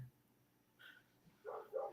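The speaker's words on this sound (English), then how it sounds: "I gotta see what my son's dog is barking at." A dog barks a couple of times at a distance, faint, short muffled barks in an otherwise quiet room.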